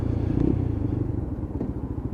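A Lexmoto LXR 125cc motorcycle rides along with a steady, throbbing low engine drone and small clunks of gear changes made without revs, close and continuous throughout.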